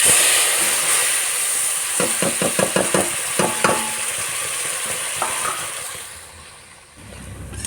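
Ginger-garlic spice paste hitting hot oil with whole garam masala, a loud sizzling hiss that fades over time, broken by a quick run of spatula scrapes and knocks as it is stirred.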